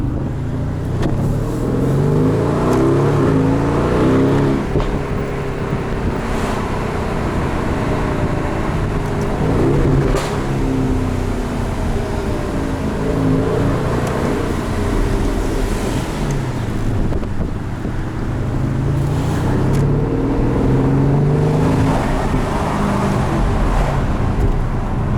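A 2019 Aston Martin DB11 Volante in Sport Plus and manual mode keeps up a loud, steady engine drone with rising and falling harmonic sweeps through the gears, riding over constant wind rush from open-top driving.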